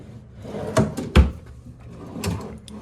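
A drawer in a hotel room at a Residence Inn in Indianapolis Fishers slides open and shuts, giving a couple of close wooden thumps and knocks with some rattling and softer scrapes after, and no talking.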